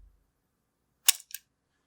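A soft, close shutter release on a Konica IIIA 35mm film camera, a quiet mechanical click followed a moment later by a lighter second tick, heard alone in a still room.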